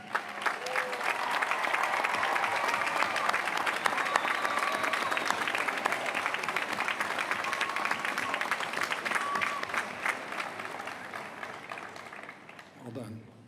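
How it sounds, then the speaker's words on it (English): Audience applause fills a University of Virginia graduation ceremony for the Class of 2026: a dense, steady wash of clapping from a large crowd that holds for several seconds, then gradually thins and fades toward the end. "Will those of you who are graduating early please stand so we can give you a well-deserved round of"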